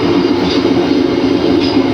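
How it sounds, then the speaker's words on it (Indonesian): A passenger train rushes past at close range during a crossing at a station, a loud, steady roar of wheels and carriages that cuts off abruptly at the end. "ternyata di stasiun ini kita bersilang dengan kereta api Tawang Alun"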